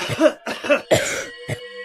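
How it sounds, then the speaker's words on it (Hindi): Four sharp coughs in quick succession, close and loud, with a brief pause before the last one. "कुछ दिन लोगों को काफी खांसी जुकाम होता है"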